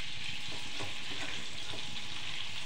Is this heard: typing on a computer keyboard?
no